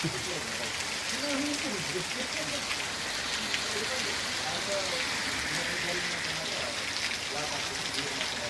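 Heavy evening rain pours down along a roadside in Chikkamagaluru district's NR Pura taluk, a steady dense hiss of drops drumming on surfaces that runs the whole length, with faint voices beneath.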